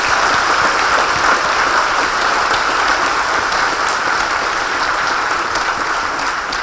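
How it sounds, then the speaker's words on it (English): An audience at a diversity celebration event gives a sustained round of applause, dense and steady clapping from many hands at close range, holding at an even loudness for several seconds with no talk over it. "Give them a round of applause."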